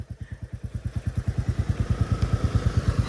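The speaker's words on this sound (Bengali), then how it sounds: "বাইক চলেছে" Motorcycle engine, a Bullet with a smoking silencer, idles close by with a steady, fast thumping beat. Each pulse is distinct and the rhythm stays even for the full three seconds.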